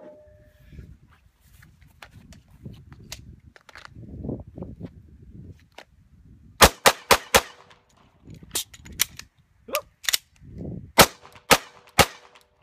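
Gunshots are fired at a rubber dummy on a range, sharp loud cracks in a fast irregular string after quieter handling noises, some shots in quick pairs, with no talk.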